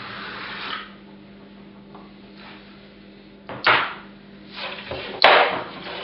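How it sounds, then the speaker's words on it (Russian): A utility knife scores and cuts a sheet of drywall, heard as a few short, close scraping and tearing strokes separated by quiet pauses, with a sharp snap-like hit near the end. "Показываю на примере, как режется лист гипсокартона."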